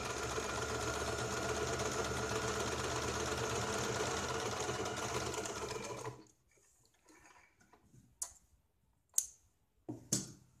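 A sewing machine stitches a sleeve in a steady, loud mechanical whir for about six seconds, then stops, leaving a few sharp clicks and knocks of handling the fabric.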